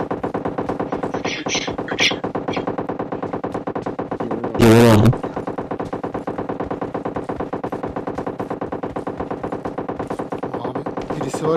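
Rapid, sustained machine gun fire in a video game, a continuous close rattle of shots throughout with a brief louder burst near the middle.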